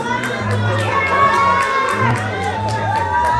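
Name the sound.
open mic audience cheering and clapping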